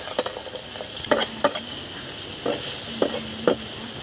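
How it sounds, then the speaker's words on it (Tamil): Crab masala ingredients with salt frying in hot oil in a village kitchen, a low constant sizzle broken by a series of distinct stirring clacks and scrapes at irregular intervals. "உப்பு அப்படியே போட்டு எண்ணெயிலே வதக்க வேண்டும்."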